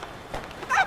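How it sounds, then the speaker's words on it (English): A chicken in the Fortnite video game clucks in a brief, close burst of bird calls that rise toward the end, sounding clear over faint game ambience. "The chicken's making so much noise."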